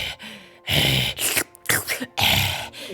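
A human voice imitates a basilisk's heavy breathing, loud close rasping inhales and exhales in several long drawn-out pulses with short pauses between them.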